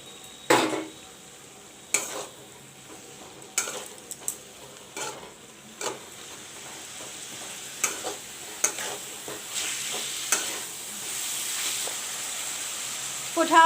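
Vegetables stir-fried with soya sauce in a pan over a low flame, with sharp scattered scrapes and clanks of the spatula against the metal over a soft ongoing sizzle.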